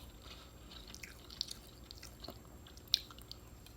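Pho broth being eaten quietly at close range: faint, scattered slurps, small wet drips and soft chewing sounds over a hushed background.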